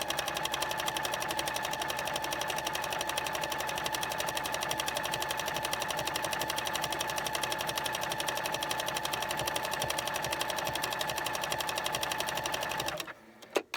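A sewing machine runs steadily while stitching crumb quilt pieces for a charity quilt, a fast continuous mechanical whir and needle chatter held at an even level, close up, stopping abruptly near the end.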